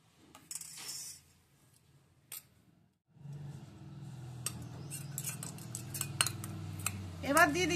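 A utensil clinks and scrapes against a plate while soaked green-banana doi bora fritters are lifted onto it, with sharp metallic taps over a soft clattering background and some handling noise.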